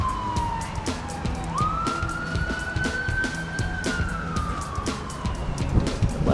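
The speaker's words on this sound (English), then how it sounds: "Bunch of sirens going on." Police siren wails steadily as it passes nearby, its tone rising and holding before sliding down, over sharp clicks and taps of workshop tools during a vintage BMW motorcycle restoration.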